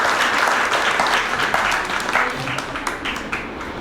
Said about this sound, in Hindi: एक बार जोरदार तालियां समाज के तरफ से